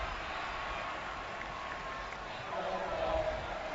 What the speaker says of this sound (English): And the Cowboy fans that have remained are cheering.